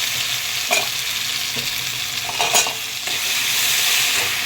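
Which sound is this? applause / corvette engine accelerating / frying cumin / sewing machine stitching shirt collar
frying cumin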